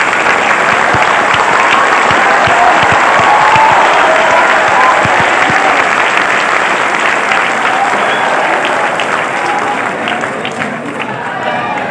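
A university audience stands and claps at a ceremony, dense sustained applause from a large crowd filling the hall, loud and steady for the whole stretch before easing slightly at the end.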